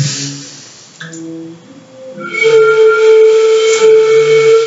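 A breathy, airy tone blown across a flute, wavering and hissy at first, then settling into a clearer sustained pitch.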